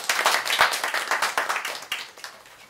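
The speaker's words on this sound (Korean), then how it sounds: "박수로 맞아주세요." An audience at a Korean policy forum on the basic livelihood security system claps in a brisk burst of applause that starts full and gradually thins out.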